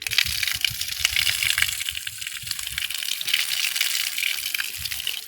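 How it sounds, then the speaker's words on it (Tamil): Water from an opened tap gushes out at a sunbaked outdoor temple yard, a continuous loud hiss and splash with irregular gurgling pulses underneath, close by and steady without speech. "தண்ணி கொஞ்சம் திறந்து விட்டுடலாம்"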